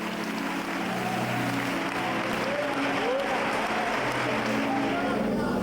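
A church congregation claps in a dense, steady wash of applause that fills the room, with raised voices and scattered tonal sounds mixed in.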